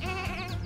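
Sheep in the farming video game Lumberhill let out a quick, close, wavering bleat, a short cartoonish cry heard on its own.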